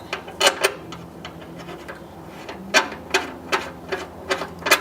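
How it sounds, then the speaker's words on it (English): A riv nut being set with an ill-fitting tool while a battery is fitted in the fender well of a K-swapped MR2: a series of sharp metallic clicks and taps, irregular and moderately close, with a faint hum underneath. "this isn't the right tool for this size riv nut, but I'll make it work"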